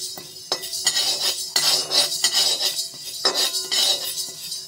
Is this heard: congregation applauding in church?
no